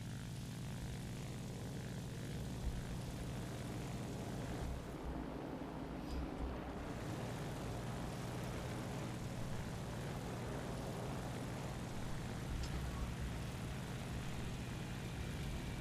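Fighter plane engine droning in flight in War Thunder, a steady, continuous propeller roar at a constant moderate level with slight shifts in tone.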